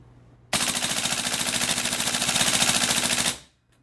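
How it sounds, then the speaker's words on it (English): A VFC M4 gas blowback airsoft rifle fires fully automatic, one loud continuous rapid burst of evenly spaced shots lasting about three seconds until the magazine empties, then stops abruptly. "I'm going to switch it over here to fully automatic, and we're going to just try it out and see how it can empty a magazine."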